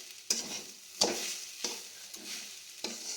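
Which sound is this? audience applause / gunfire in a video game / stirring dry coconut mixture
stirring dry coconut mixture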